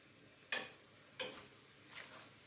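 A kitchen stove's igniter ticks as it's turned on: three sharp, faint clicks spaced roughly a second apart over a low room hush, with no one speaking.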